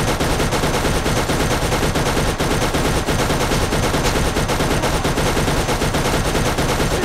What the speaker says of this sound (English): let me get on this machine gun and see how it's going here